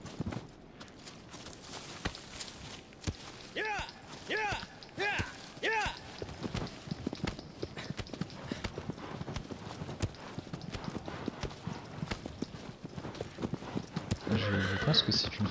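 Horse galloping in Shadow of the Colossus, a steady rapid clip-clop of hooves with a couple of whinnies, running continuously under a person talking.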